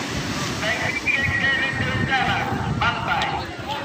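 Waves wash continuously onto Pandan beach, a steady surf roar with some wind buffeting the microphone, while people talk over it.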